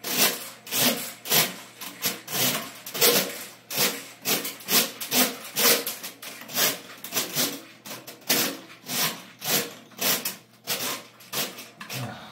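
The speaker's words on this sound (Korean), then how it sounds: "그냥 이렇게 밀어 넣으면 자동으로 들어가요" The cable of a Spin Shark drain-cleaning machine is pushed back into its housing in a steady series of rhythmic rasping, ratcheting strokes, close and fairly loud, repeating about once or twice a second.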